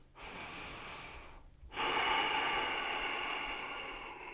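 Deep breathing during a vinyasa yoga flow, a long steady breath through the nose, a brief pause, then a fuller, louder inhale or exhale that slowly fades, close and without talk.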